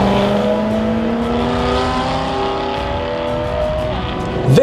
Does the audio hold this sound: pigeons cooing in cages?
no